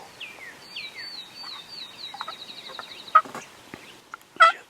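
A wild turkey hen gives a run of clucks and yelps, fairly near, answering a hunter's box call during a bowhunt from a tree stand, with sharp bird chirps and a couple of louder calls breaking in.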